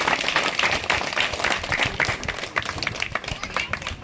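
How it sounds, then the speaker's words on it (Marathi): A seated crowd applauds continuously and loudly to welcome a guest at a public felicitation ceremony in a village, a dense, even clatter of many hands. "आपण सर्वांनी टाळ्यांचा गजरा करून त्या बाबांचं या ठिकाणी स्वागत करायचं आहे"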